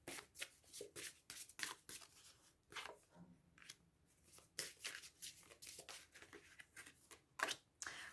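Tarot cards shuffled by hand in repeated quick riffling bursts, close and crisp, with short pauses between rounds and no talking.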